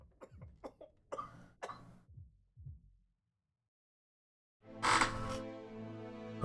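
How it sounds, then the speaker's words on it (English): A rough, hacking cough from a sick crewman aboard a ship in the video game Return of the Obra Dinn, several harsh bursts in a row, then a pause before a loud, swelling tonal game sound rises and lingers. "Sounds like a bad cough."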